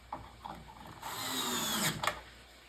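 A screw driven in with a powered driver during an arcade cabinet restoration, a short whirring burst of under two seconds after a few light handling clicks, close and fairly quiet.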